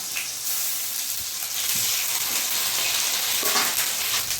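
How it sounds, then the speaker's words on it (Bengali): Chopped tomatoes and ginger paste fry in a hot pan, giving a loud, steady hiss that runs without a break, with a faint scrape of stirring partway through. "কেটে রাখা টমেটোগুলো দিয়ে দেবো। দিয়ে দেবো আদা বাটা।"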